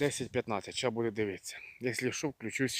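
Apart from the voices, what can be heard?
None of the usual background noises is heard.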